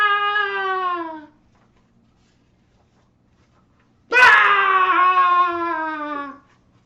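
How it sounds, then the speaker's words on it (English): A voice performs the screams of a cartoon latke, a fried potato pancake: two long, loud, wailing screams separated by a few seconds of silence. "The screams of the Latke grew quieter and quieter as the pancake ran out of the village into the surrounding forest."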